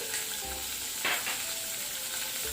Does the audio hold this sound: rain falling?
no